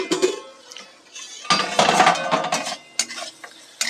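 A pot lid lifted off a pot of chira pulao with potatoes, giving a few metallic clanks and clinks over a soft background sizzle, close and fairly loud.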